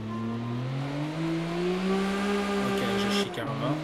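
A car drifts in the CarX Drift Racing video game, its engine holding a steady droning tone that slowly climbs in pitch, then briefly breaks up near the end with a burst of noisy tire or revving texture.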